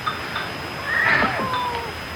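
A cat lets out a single drawn-out meow in a radio play, clear and close, rising and then falling over about a second in an otherwise quiet room.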